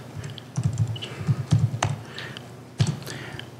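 A computer keyboard is typed on in short bursts, clusters of close, crisp key clicks separated by brief pauses, with a faint voice-like murmur in the background.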